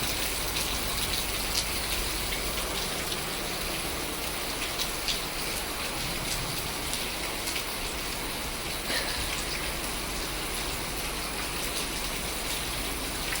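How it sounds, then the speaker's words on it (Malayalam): Steady rain falls in a dense, unbroken hiss on a house and garden, even and continuous throughout with no voices. "നമുക്ക് മഴ പെയ്തു"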